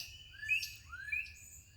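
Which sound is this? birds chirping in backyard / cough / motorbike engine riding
birds chirping in backyard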